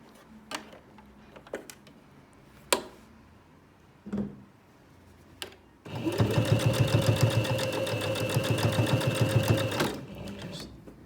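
A sewing machine runs a steady fast burst of stitching along the handle of a homemade fabric iPad mini cover, loud and close for about four seconds after a few scattered clicks and handling knocks.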